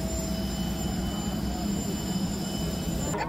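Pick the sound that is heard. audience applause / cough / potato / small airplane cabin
small airplane cabin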